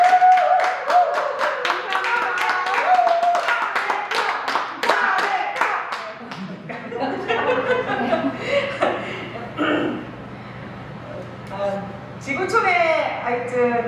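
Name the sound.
congregation clapping hands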